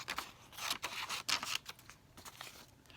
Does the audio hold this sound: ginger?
no